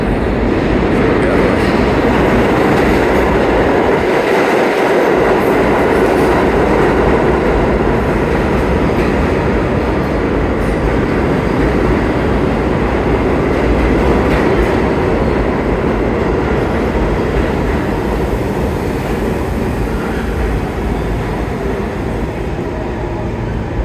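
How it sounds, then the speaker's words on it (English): Loud, continuous rumble and rattle of an R46 subway train, cars about 50 years old, arriving at Penn Station on the 8th Avenue line, with rhythmic clacking of wheels. "A train heading to Brooklyn, R46 equipment about 48 to 50 years old, and these cars are 75 feet long."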